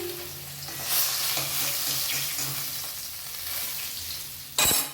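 Hilsa fish frying in hot oil, a loud, continuous crackling sizzle up close that swells and eases, ending with a sharp clatter.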